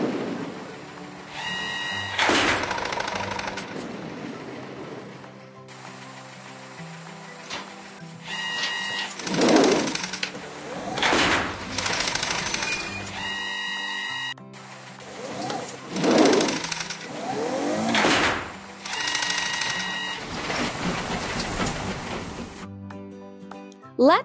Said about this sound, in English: Let's lay rails and sleepers.